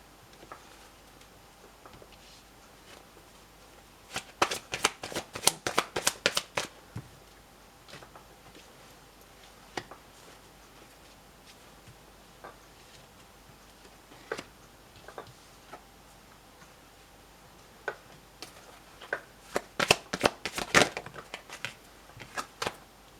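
Tarot cards are shuffled and drop onto a surface in two bursts of rapid, crisp clicking and flicking, with near-silence and a few isolated taps between the bursts.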